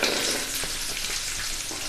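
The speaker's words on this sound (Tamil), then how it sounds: "இப்போ இந்த நறுக்கி வச்சுருக்க வெங்காயத்தை போடுவோம்." Chopped onions frying in hot oil with urad dal and curry leaves for an okra kuzhambu, a steady close sizzle and crackle that runs without a break.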